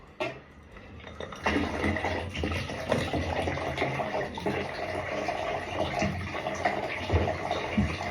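Dirty water gushing out of a drained radiator heating system during a bathroom renovation, starting quietly then running in a loud, continuous splashing stream.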